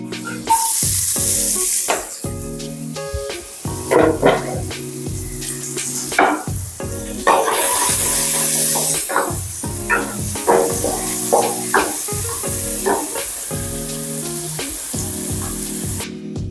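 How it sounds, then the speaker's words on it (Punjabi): Finely chopped onion fries in a pan for a Punjabi pumpkin kofta curry. A loud, steady sizzle runs throughout, broken by repeated scraping and clattering of a stirring utensil against the pan, with no talking. "ਹੁਣ ਮੈਂ ਇੱਥੇ ਪਾਉਂਗੀ ਜਿਹੜਾ ਆਪਣਾ ਕੱਟਿਆ ਹੋਇਆ ਪਿਆਜ਼ ਬਰੀਕ ਕਰਕੇ ਰੱਖਿਆ ਸੀਗਾ ਉਹ ਪਾ ਦਾਂਗੇ ਇਹਦੇ ਵਿੱਚ"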